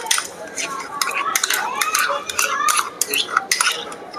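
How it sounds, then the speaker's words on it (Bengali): Sour yogurt being beaten in a bowl with a utensil for a marinade, quick close clinks and scrapes against the bowl in an uneven rhythm, loud and alone. "ফেটানো টক দই আর একটু ফেটিয়ে নিচ্ছি।"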